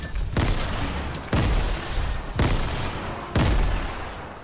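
Video game gunfire in quick bursts, four loud blasts about a second apart, each with a sharp attack and short decaying tail over a steady background roar.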